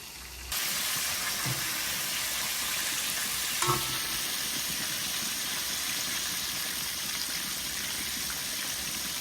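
Chicken pieces fry in hot oil with a steady, close sizzling hiss that runs unbroken throughout, punctuated by a couple of faint clinks from the pan.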